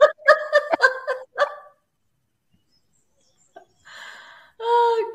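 A person imitates a Turkish dog barking, giving a quick run of several voiced, yelping barks up close, then a pause followed by two more drawn-out, howling bark sounds.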